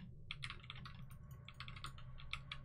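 Computer keyboard keys pressed in a quick, uneven run of light clicks, close and quiet over a low steady background hum, while a horror game about dolls is played.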